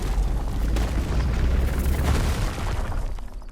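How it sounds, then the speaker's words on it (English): Rock explosion in the video game Runescape Dragonwilds, a loud deep boom with rumbling debris that holds for a few seconds before tapering off. "How about a little bit of rock explosion?"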